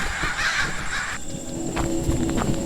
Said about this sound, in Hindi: उसके बाद वो सभी चील और कौवे बनकर फिजा में उड़ गए।